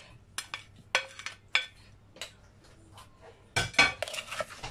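A spoon knocks and scrapes in a bowl while mixing a spicy mixed fruit salad with shrimp. Irregular sharp clinks and taps come up close, with quiet pauses between them.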